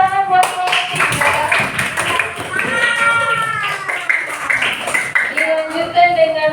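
A classroom group claps together, a burst of hand clapping mixed with children's voices and cheering throughout, lively and close.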